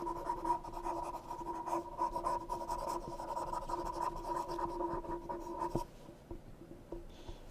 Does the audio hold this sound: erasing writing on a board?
yes